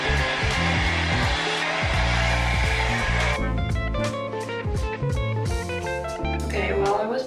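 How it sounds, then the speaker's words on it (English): A handheld blow dryer runs steadily while drying hair, a continuous close whir with shifting airflow as it moves, accompanied by background music. "Okay, I'm going to get my blow dryer quickly."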